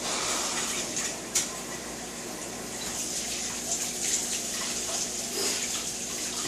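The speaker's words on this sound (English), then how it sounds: "I'm going to rinse my bowls out real quick so there's not a dirty dish in the house." Bowls are rinsed under a running kitchen tap, a steady close gush of water with small clinks and splashes as dishes shift beneath the stream.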